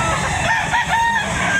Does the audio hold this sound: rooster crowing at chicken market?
yes